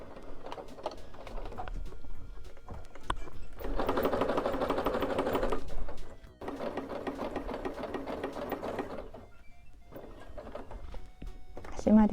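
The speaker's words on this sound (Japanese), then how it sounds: "返し口を10センチほど開けて縫っていきます。" A sewing machine stitches a lined placemat in several rapid, rattling bursts of a few seconds each, with short pauses between runs, close and clear.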